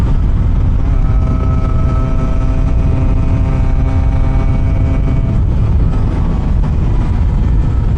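A Yamaha RX100 motorcycle's engine runs loud and close, with a dense, rough steady drone and tonal whine that lasts the whole stretch without pause.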